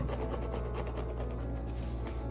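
A paintbrush scrubs acrylic paint onto a canvas in quick repeated strokes, a close, soft rhythmic rasping and rubbing with no voices.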